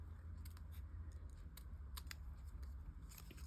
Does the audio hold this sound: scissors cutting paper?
yes